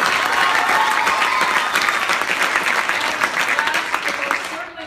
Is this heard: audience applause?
yes